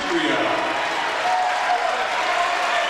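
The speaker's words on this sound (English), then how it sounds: "Cameron Brown gets a great round of applause as he checks out." A high school boys' basketball crowd in a gym applauds a player leaving the court, a broad, sustained wash of clapping with crowd murmur underneath and an announcer's voice over it.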